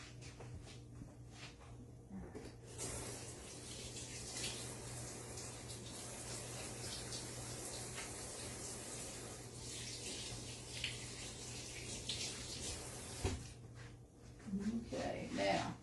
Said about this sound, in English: first thing I'm going to do is wash my hands real quick.